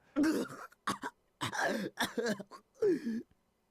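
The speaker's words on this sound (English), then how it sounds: "I kept on coughing, struggling desperately to get oxygen in my lungs." A video game character coughs harshly in several ragged bursts, close and fairly loud, with short gasping pauses between them.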